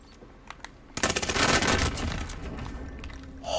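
Cooper Carbine automatic rifle fire in a Call of Duty Warzone match: after a few quiet clicks, a loud close burst of rapid shots that tapers into a longer, quieter rattle of continued fire.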